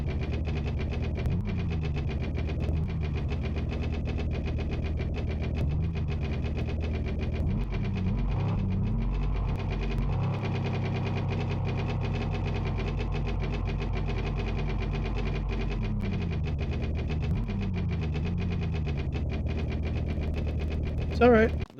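B200 ramp truck engine running with a steady rough idle and rhythmic knocking, a loud, close mechanical drone that rises briefly in pitch, with people talking under it.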